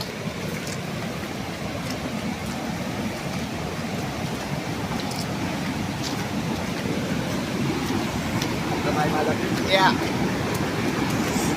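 Floodwater from an overflowing river rushes past fields after heavy rain in Naigaon, a constant loud broadband roar that swells slightly toward the end.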